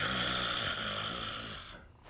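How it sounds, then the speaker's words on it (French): An old man's snoring in a children's TV programme: one sustained, raspy, rumbling snore that runs about two seconds at moderate loudness, then thins out and fades near the end. "tu vas cesser de ronfler"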